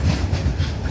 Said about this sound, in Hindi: अपना गुड्स ट्रेन जा रही है